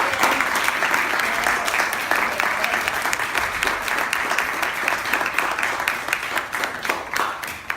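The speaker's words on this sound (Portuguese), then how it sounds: "a ele especialmente eu quero pedir uma salva de palmas" An audience at a state family and inheritance law seminar breaks into sustained, loud applause, a dense crowd of clapping hands that continues steadily with some voices mixed in.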